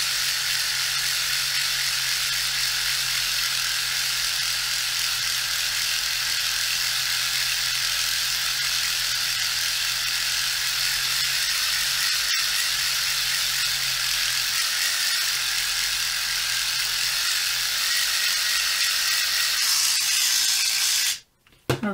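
Dspiae reciprocating sander working steadily on a small workpiece, a constant close buzzing hum with fine mechanical rattle that runs unbroken for about twenty seconds before cutting off abruptly at the end.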